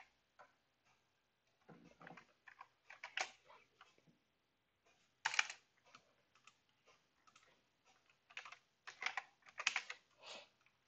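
Computer keyboard typing, quiet irregular clusters of sharp key clicks with short pauses between bursts, heard alone in a silent room.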